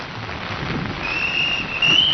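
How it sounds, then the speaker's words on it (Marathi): Heavy monsoon rain and gusting wind at Marine Drive in Mumbai form a dense, steady hiss that swells slightly toward the end, heard without talk. "इथे पावसाचा आणि वाऱ्याचा वेग वाढताना आपल्याला पाहायला मिळतोय"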